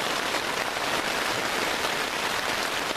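Steady rain falls at a campsite, a dense, even hiss of drops pattering on surfaces without pause, fairly loud and with no voices.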